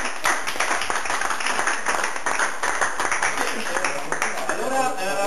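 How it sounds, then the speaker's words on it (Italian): Audience applause at a comedy show, steady dense clapping throughout with voices mixed in underneath, fairly loud and close. "Un applauso per la tua."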